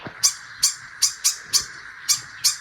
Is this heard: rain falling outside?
no